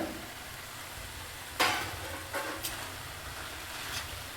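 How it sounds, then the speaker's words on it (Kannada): Sprouted moong dal tips into a hot pan of cooking dill curry, giving a sudden burst of sizzle followed by a few scraping stirs over a steady, low frying hiss. "ಈಗ ಮೊಳಕೆ ಕಟ್ಟಿದ ಹೆಸರು ಕಾಳನ್ನು ಸೇರಿಸೋಣ"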